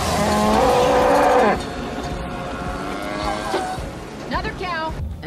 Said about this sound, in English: Another cow!